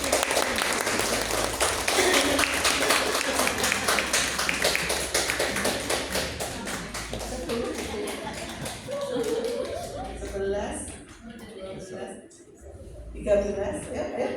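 A church congregation at a Sunday worship service claps hands together in a long, steady, loud burst of sustained applause that fades out after about ten seconds, followed by scattered voices.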